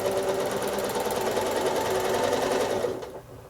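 A sewing machine hums steadily up close while free-motion quilting a modern weave pattern with travel stitching, a continuous fast buzz that slows and stops near the end.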